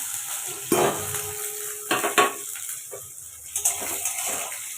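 Marinated pepper chicken goes into a hot wok with a sizzle, followed by stirring scrapes and utensil clinks against the pan in a few loud bursts.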